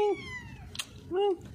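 A hungry homeless kitten at a factory gives two close, plaintive meows separated by a short pause.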